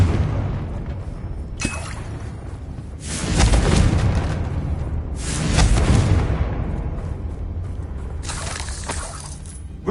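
Confringo explosive spells from Hogwarts Legacy burst several times in a row, each a loud booming blast with a crackling, shattering tail, spaced a couple of seconds apart over a faint background.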